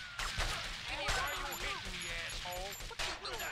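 Rapid overlapping gunfire in GTA Vice City during a Big Mission Pack mod shootout crackles faintly in quick bursts, with a voice talking excitedly over the shots.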